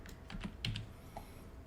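Someone types a project name on a computer keyboard in 3D scanning software: a short run of light, close key clicks over a faint steady room hum.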